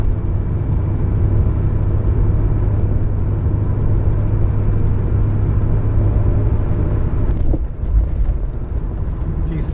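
Inside a Ford Mustang on a part-throttle test drive, a steady low engine drone and road rumble fill the cabin, loud and even throughout, with a brief knock near the end.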